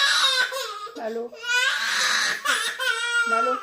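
A baby cries and screams loudly and close by, with wailing bursts separated by short gasping breaks, in a family home at breakfast time.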